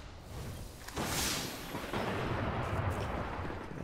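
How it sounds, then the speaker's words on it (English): Automatic assault rifle fire in the multiplayer video game Destiny, a dense continuous roar of rapid shots with booming low end and a whooshing burst, loud and unbroken without speech. "this is kind of just some assault rifle gameplay"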